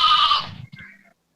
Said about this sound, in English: You see the sheep?